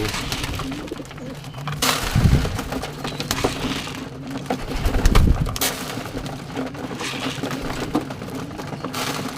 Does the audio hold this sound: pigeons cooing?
yes